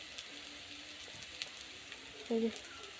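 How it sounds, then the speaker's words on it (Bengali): Cauliflower and potato bhaji sizzles quietly in a pan, a soft continuous fry with a few faint clicks and a brief louder tone near the end. "আজকে সকালে করছি এই যে ফুলকপি আর আলু দিয়ে ভাজি করছি"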